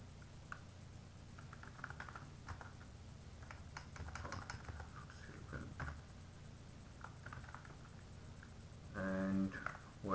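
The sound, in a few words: typing Arduino code on computer keyboard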